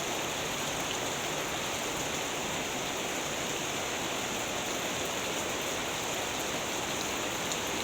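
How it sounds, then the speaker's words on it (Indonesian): Heavy rain pours steadily over a grape garden during pruning, a dense, even hiss of falling water with no pauses and no voices. "pas hujan deras ya ini"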